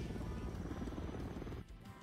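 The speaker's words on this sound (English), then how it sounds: "One thing I don't like is getting shot by helicopters." An attack helicopter in the shooter game Call of Duty: Modern Warfare III gives off a loud, continuous rotor roar that dominates, then drops away abruptly near the end.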